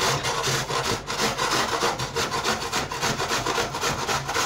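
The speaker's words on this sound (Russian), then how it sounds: "Думаю, яблоки буду натирать, наверное, на крупной терке. И прям со шкуркой попробую." Unpeeled apples being grated on a coarse grater, a loud close rhythmic rasping of strokes back and forth, steady and continuous with no talking.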